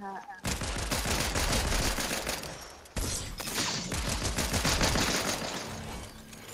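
Fortnite gunfire crackles in dense, continuous bursts of rapid shots, loud and close, with a short break partway through before the firing resumes under faint player chatter.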